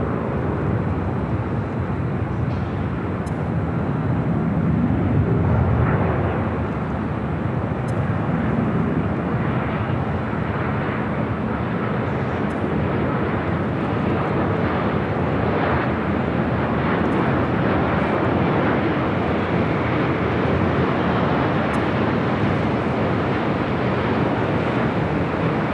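A Boeing 787 Dreamliner jet on approach to LAX, heard as a steady, broad roar of jet engine noise that swells slightly early on and stays sustained and fairly loud throughout, with no voices.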